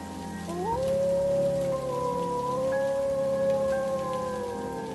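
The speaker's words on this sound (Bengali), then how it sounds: "30-40 মিনিট ধরে বৃষ্টি পড়েই যাচ্ছে" Heavy rain hisses steadily in a spooky cartoon scene, a constant wash of falling water under long, eerie wavering howl-like tones that glide and hold throughout.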